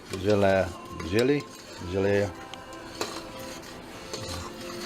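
A spoon stirs pindo palm jelly in a hot pot, with squeaky scraping strokes in the first half, then scattered light metallic clinks and soft scraping against the pot, close and fairly quiet.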